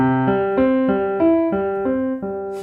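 A sequence of about nine piano notes played one after another at a steady, even pace, each ringing clearly with no voices.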